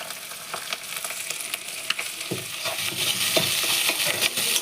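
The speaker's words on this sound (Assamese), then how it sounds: "ভাতখিনি দিয়াৰ পিছত অলপ এনেকৈ লৰাই থাকিব" Rice stir-fried in a pan with chillies and fish belly, a steady close sizzle broken by repeated scraping strokes of the spatula that grow busier toward the end.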